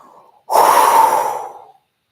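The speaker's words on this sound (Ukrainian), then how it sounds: "І з сильним видихом через рот відпускайте їх." A single strong, breathy exhale through the mouth during a breathing exercise, close and loud, lasting about a second and fading out, with a faint earlier breath before it.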